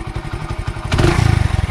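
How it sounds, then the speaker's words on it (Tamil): A modified Hero Splendor motorcycle engine runs close up, a rough pulsing idle that swells into a louder, faster throbbing rev partway through, with no talking. "வண்டி இன்ஜின் சவுண்ட் பார்த்துக்கல எப்படின்னு"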